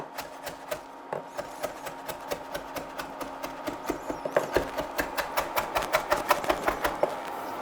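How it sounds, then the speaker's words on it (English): A knife chops finely and rapidly on a board while salsa ingredients are prepared for a Mexican-style recipe, the sharp taps coming in a steady, quickening rhythm close up, with no voices. "Also, you're gonna slice it very fine as well."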